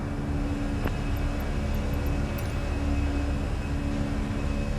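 Airliner engines at climb throttle heard from inside the cockpit, a steady, even drone with a low rumble and faint tonal hum, continuous with no talk, and a few small clicks.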